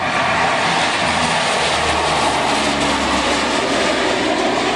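A propeller aircraft engine at an air show in Ireland roars loudly and continuously as power builds, a broad, steady drone with a throbbing low hum and no voices.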